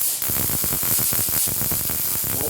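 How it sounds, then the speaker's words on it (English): An arc welder runs a steady bead on a rotary cutter in a welding shop, producing a loud, close, continuous crackling buzz with no talking. "we're gonna weld from this spot to this spot"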